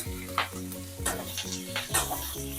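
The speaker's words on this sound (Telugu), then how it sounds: "చింతపండు, ధనియాలు, జీలకర్ర, కరివేపాకు అండి. కొంచెం బాగా వేపుకుందాం." Tamarind, coriander seeds, cumin and curry leaves frying in a pan for shallot chutney, soft sizzling with repeated sharp scrapes and clinks of a stirring spoon against the pan, close and moderately quiet, no talking.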